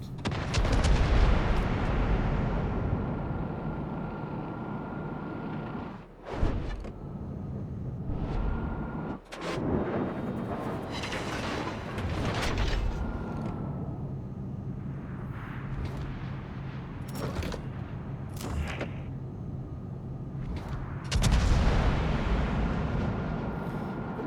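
Naval guns fire again and again during a warship battle in the game, with heavy booms and rumbling blasts that overlap. Sharp salvos break up a constant loud roar of battle for the whole stretch.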